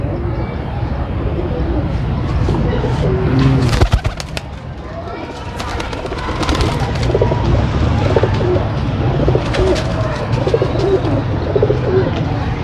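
Pigeons coo in low, repeated throaty calls nearby while someone talks over them, with a sharp clatter partway through.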